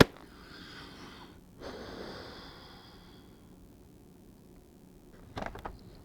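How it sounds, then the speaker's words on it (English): Breathing inside a motorcycle helmet with a Pinlock visor: two slow, breathy exhales, muffled and close, followed by a short rustle, no talk. "Let's breathe, see if we fog."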